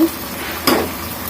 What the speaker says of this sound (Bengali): আর এখন এটাকে আমি সুন্দর করে ভেজে নেব।